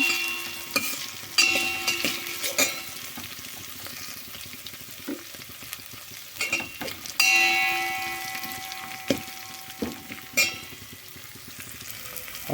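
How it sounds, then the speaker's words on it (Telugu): Chopped onions and green chillies sizzle steadily in a pan of hot oil as a tempering for cabbage tomato curry, a close, continuous crackle broken by occasional louder spatters and scraping stirs. "ఉల్లిపాయలు పచ్చిమిరపకాయ ముక్కలు వేసి వేసుకున్నాం అన్నమాట ఇలా వేగాలి"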